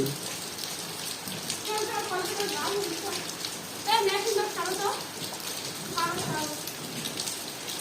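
Steady rain pattering on surfaces through a wet afternoon, a constant close hiss of drops, while people talk and call out over it at intervals.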